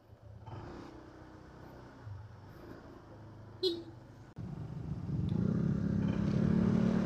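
A Honda ADV 160 scooter idles and then pulls away on a ride, its engine building from a low hum to a louder, steady drone close to the rider, with a brief clunk before it sets off.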